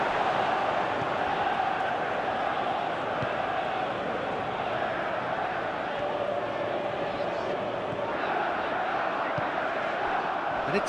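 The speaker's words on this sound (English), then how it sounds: "the crowd clearly like what they just saw." Stadium crowd in the PES 2021 football game, Chelsea against Wolves, a steady broad roar of many voices holding at an even level for the whole stretch.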